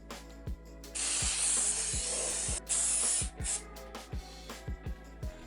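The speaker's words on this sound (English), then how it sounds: "I like the baking spray better." An aerosol can of baking spray, used for a bundt cake, hisses in two long sprays, then a few short bursts, while soft rhythmic ticks tap steadily in the background.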